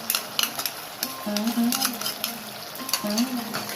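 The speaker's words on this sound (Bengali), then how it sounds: "এবারে টক দইটা দিয়ে নাড়তে থাকবো" A spoon stirs sour yogurt into a katla fish curry in a pan, with soft scraping strokes and a light sizzle while a person talks over it.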